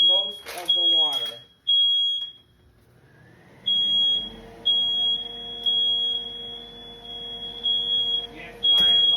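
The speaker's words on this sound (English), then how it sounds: "Yes, my alarms are sensitive." Smoke alarm in a kitchen where chili beans are cooking, sounding a loud, steady high-pitched tone broken into a string of long beeps, with a person talking briefly at the start.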